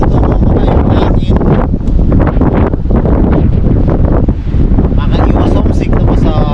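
Strong gusts of wind buffet and roar across the microphone, steady and close, with a voice partly buried beneath the rush.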